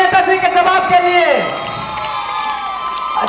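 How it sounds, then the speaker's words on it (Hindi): A crowd cheers and whoops for a politician in a comedy sketch, loud and close, with shouting voices that drop back sharply after about a second and a half to a lower, steady crowd noise. "जोरदार ताली हमारे नेताजी के जवाब के लिए"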